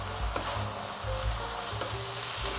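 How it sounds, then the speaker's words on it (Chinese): Noodles are stir-fried in a hot wok and turned with chopsticks, a steady loud sizzle with faint scraping and tossing underneath, close up and with no voices. "炒面、炒米粉我都习惯用筷子这样子翻拌，就觉得很好炒。"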